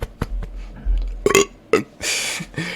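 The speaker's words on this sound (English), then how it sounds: "Sorry, I need to burp." A single loud burp from a man near the microphone, a short deep gulping sound, with a few brief clicks and rustles around it and no talking.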